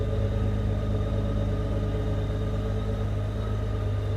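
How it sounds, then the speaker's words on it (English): Steady low exhaust drone of an idling Honda GL1800 Goldwing motorcycle, close and constant, with a smooth humming rumble and no speech. "Now the exhaust sounds a little bit louder on this bike"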